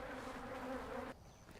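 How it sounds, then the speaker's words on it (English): Dense, aggressive insect buzzing from many bees, steady and close, cutting off abruptly and dropping to a quieter hum near the end. "Mad bees. Let's get out of here."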